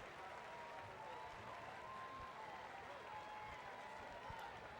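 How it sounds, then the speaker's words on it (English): Fans at a high school football game, Owasso Rams versus Jenks Trojans, applaud steadily from a distance as an injured player walks off the field. The clapping is broad and even, with a low crowd murmur beneath it. "Walking off under his own power, so that's getting a nice round of applause from the fans."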